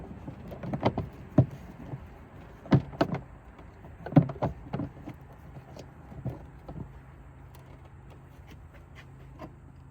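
Plastic engine air filter cover being fitted onto the housing of a 2020-2025 Volkswagen Atlas: a series of sharp, close snaps and clicks in irregular bursts over a low hum, with no talk.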